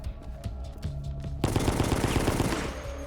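Tactical SMG gunfire in Resident Evil: Operation Raccoon City, a fast, loud automatic burst that starts suddenly after quieter game sounds and single clicks, then hammers on steadily to the end.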